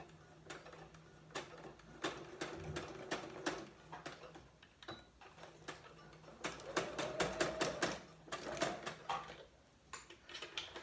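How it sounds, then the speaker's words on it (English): A sewing machine stitching over paper in an art journal runs in short bursts of rapid mechanical clatter, stopping and starting, with a low motor hum underneath; fairly quiet and close. "So I'm just going to run my sewing machine over it."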